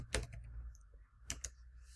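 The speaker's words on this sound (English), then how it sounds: "let's just type it in." A few close, faint key presses on a computer keyboard, two small clusters of clicks about a second apart in a quiet room.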